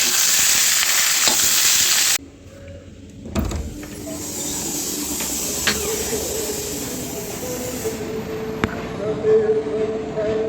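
Katla fish frying in a pan at home, a loud, steady sizzle that drops to a quieter, continuous crackle after a couple of seconds, with a few faint clinks through the rest.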